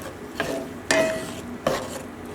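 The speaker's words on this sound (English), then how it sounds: "Mix it all nice together." A spoon stirring Chicken Diane sauce in a pan, three distinct scraping sweeps with a faint metallic ring, close and fairly loud, with no voices.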